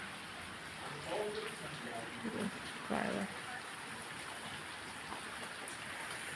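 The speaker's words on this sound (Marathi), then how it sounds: "आत्ताच बघा चांगला धो धो असा पाऊस पडलाय" Heavy monsoon rain pours down steadily, a continuous close hiss of downpour on wet ground and surfaces, with a few brief spoken words rising over it.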